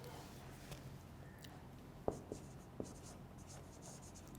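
A word written by hand during an English lecture, soft scratching pen or chalk strokes with a few small taps, quiet and close, with a faint room background.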